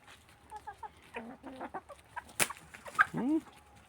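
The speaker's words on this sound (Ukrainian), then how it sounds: "півень хазяйнує в себе у своїм гаремі" Hens cluck softly in a farmyard flock while a rooster among them gives a louder, rising squawk near the end, with scattered short calls throughout.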